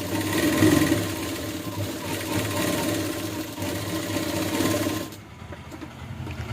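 A sewing machine stitches the lining of a blouse to the cross belt seam, running steadily for about five seconds before stopping, leaving a quieter background.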